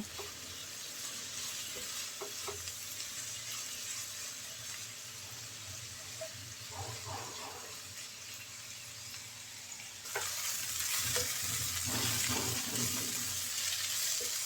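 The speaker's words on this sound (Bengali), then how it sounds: "নেড়ে চেড়ে বরবটি আমি ভালো করে ভেজে নিয়েছি" Yardlong beans with onion, green chili and garlic hiss softly in a pan while a spatula stirs them. The frying swells louder near the end, with faint clinks and no voices.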